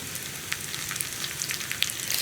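Dried red chillies fry in oil for a ginger tamarind curry, giving a soft, even sizzle with small crackling pops throughout, fairly quiet and close, with no voices.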